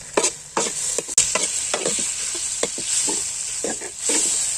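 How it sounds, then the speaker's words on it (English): Pork frying in an oily pan for an Assamese-style pork dish, with a steady loud sizzle broken by repeated scraping strokes of a spoon stirring the meat, close up and without talk. "Sometimes we frying pork"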